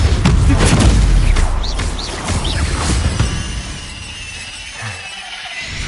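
Confringo blasting spells go off during a Hogwarts Legacy fight: heavy booming explosions with glassy, shattering debris, loudest at first and then tapering into quieter rumble and scattered crackles.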